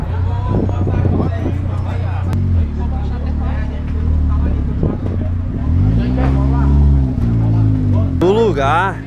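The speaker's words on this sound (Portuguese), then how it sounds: "Agora vai um carro aí por baixo aí agora." A car driving beneath a lowered Fiat Uno raised on a lift at a nighttime car meet, its engine rumbling steadily and swelling as it passes close by, under people talking.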